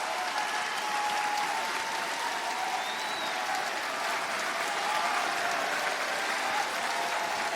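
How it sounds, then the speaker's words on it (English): Wrestling fans in an arena applaud and cheer for Kris Statlander after a TBS Championship match, a constant, loud wash of clapping and crowd noise with no letup. "Statlander getting a rousing round of applause here and cheers from the fans."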